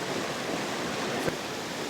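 Waterfall on the Claddau River roaring as an unbroken broadband rush of falling water, steady and fairly loud with no voices.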